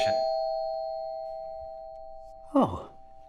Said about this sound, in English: Oh, it's the doorbell.